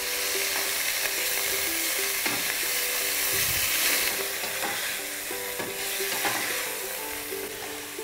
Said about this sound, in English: So basically what I'm doing here is letting the pork colour.